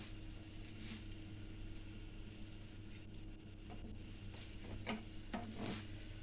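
Katmer flatbread browns in a dry, unoiled pan with a low steady sizzle over a constant hum, with a few soft scraping clicks of a utensil near the end.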